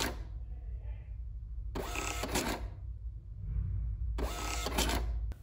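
A kitchen order printer in a restaurant point-of-sale setup runs two bursts of rapid buzzing, rattling print noise, each lasting under a second, separated by a quiet low hum.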